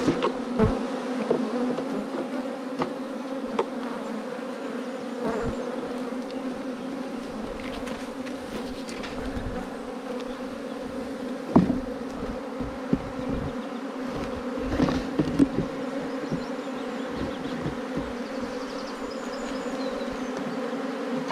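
Honey bees buzzing steadily around an open hive during an inspection for artificial swarming, a dense close drone with occasional louder passes and faint knocks from handling.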